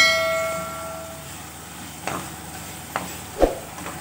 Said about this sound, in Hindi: अब इसमें 1 टेबल स्पून भर के लहसुन अदरक पेस्ट डाल दें और इसको भी अच्छी तरह से मिक्स कर दें।